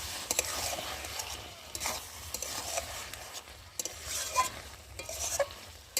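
Data chorchori, a stem curry, is stirred in a pan after sugar goes in, a spoon scraping in uneven strokes over a soft simmering sizzle, fairly quiet and close, with no talk.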